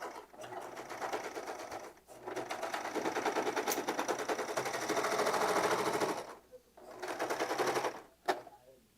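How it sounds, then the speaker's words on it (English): A sewing machine stitches a dress in loud close bursts of rapid needle chatter, several seconds of running broken by short pauses, with no one speaking. "I am sewing on a weird angle so my head's not in the way of the camera."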